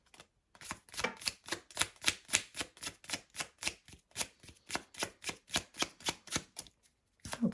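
Oracle cards shuffled by hand give a quick run of crisp, evenly spaced riffling snaps, close and clear, with no talking.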